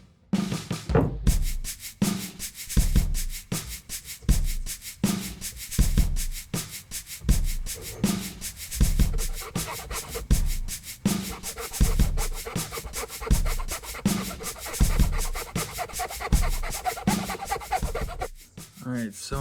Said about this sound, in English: So now I hacksaw until I get to this line